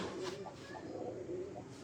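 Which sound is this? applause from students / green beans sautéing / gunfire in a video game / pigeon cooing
pigeon cooing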